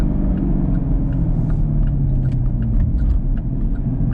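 Deep steady engine rumble inside a 2017-2024 Chevrolet Camaro driving toward a highway, loud and continuous road and motor drone with faint light rattles, no talking.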